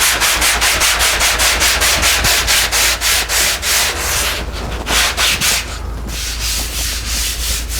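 Sandpaper on a sanding block is rubbed over an MGA car body panel in fast, even back-and-forth strokes, loud and close, with about twenty rasping strokes that grow slightly slower and uneven toward the end.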